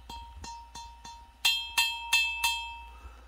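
A fingernail taps a Qianlong-era Chinese porcelain vessel, producing eight ringing clinks close up. The first four are soft and steady, and the last four are sharper and louder, each with a brief bright sustain.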